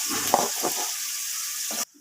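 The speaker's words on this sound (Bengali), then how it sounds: "এখানে তো চিকেনটা ভাজা রয়েছে" Chicken fries in a pan with a steady sizzle and a few scrapes of stirring, then cuts off abruptly.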